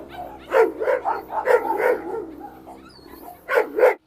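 Two Rottweilers, one a newcomer challenging for the leader position, face off with close, loud bursts of barking and growling that come in quick clusters, briefly quieten, then flare again.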